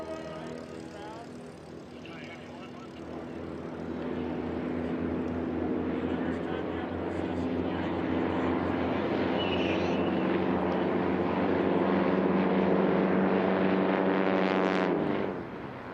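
STOL propeller airplanes in a drag race touch down on a landing strip, their engines droning loud and steady with a rising, sustained roar that builds through the pass before cutting off abruptly at the end.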